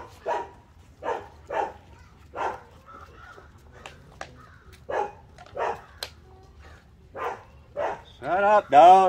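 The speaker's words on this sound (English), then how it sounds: "Shut up, dogs." Dogs bark repeatedly in short bursts at a moderate distance, with some whimpering, and a louder, closer yelp or howl at the end.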